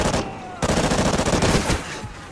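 Enemy gunfire in Call of Duty: Ghosts, loud, rapid automatic bursts rattling continuously with a short break near the start, close and dense, with a voice faintly underneath.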